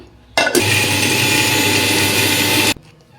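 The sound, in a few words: mixer grinder blending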